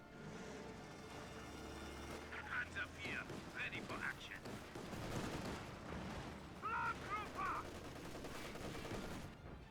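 An Su-76 self-propelled gun firing shots in the Company of Heroes 2 game, with distant bursts of gunfire and battle noise running under a commentator's steady talk.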